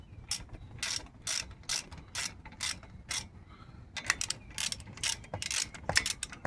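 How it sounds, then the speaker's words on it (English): A ratchet tightens the caliper bolt on the front brakes of a 2014 Dodge Ram 1500, giving bursts of quick, close, crisp clicking strokes with short pauses between them. "Now I've got the caliper on. I'm going to tighten it back up."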